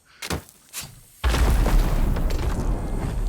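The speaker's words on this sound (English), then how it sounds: "that's something else exploding" In Sea of Thieves, a couple of muffled thumps come first, then a sudden deep explosion booms and rolls on as a loud, rumbling roar that continues to the end.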